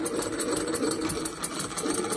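A small double-acting oscillating engine runs steadily on its own, giving a continuous fast mechanical chatter with quick regular pulses of exhaust, close and moderately loud.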